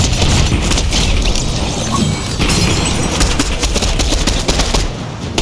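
Rapid, relentless gunfire from an invisible boss in Fortnite, loud and close, with dense overlapping bursts and crashes running through the whole stretch without a break.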